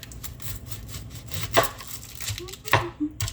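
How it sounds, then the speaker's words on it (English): Close up, a knife dices a yellow onion on a cutting board, with a few sharp chops and soft scraping between them. "I'm going to cut our yellow onion into dices"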